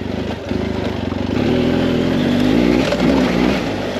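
A BMW F motorcycle engine is held at steady revs on a steep offroad mountain pass climb after overheating, a loud, close, sustained buzzing drone that swells slightly and holds.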